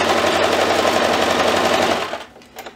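A sewing machine stitches fabric in a rapid, even mechanical chatter for about two seconds, then stops, leaving a couple of faint clicks.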